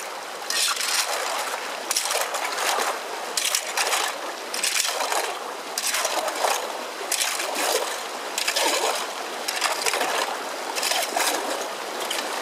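Gravel being raked out of a stream bed while gold prospecting, heard as repeated bursts of crunching, scraping stones and splashing water at an irregular rhythm, close and loud over the running stream.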